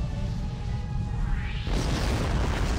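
A heavy cannon impact explosion in a Star Trek space combat game rumbles as a loud, sustained boom with a rushing burst partway through.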